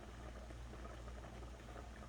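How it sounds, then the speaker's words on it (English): Wonton soup broth boiling in a pot, a faint, low, continuous bubbling and rumbling simmer without any talk. "If the soup's boiling too strong, turn the heat down a little bit."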